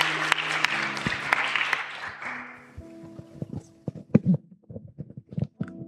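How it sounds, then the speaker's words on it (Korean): Congregation applauding at a Korean church thanksgiving service after an outreach trip, a broad wash of clapping for the first three seconds that thins into scattered claps and shuffling footsteps. "나올 때 박수로 한 번 더 격려해 주시면 감사하겠습니다."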